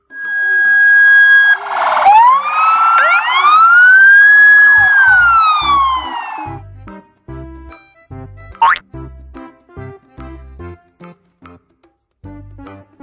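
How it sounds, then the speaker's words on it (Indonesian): A loud wailing siren sweeps up and down in pitch, followed by a rapid sequence of beeps and electronic blips with a brief rising whoop in between. "Police car."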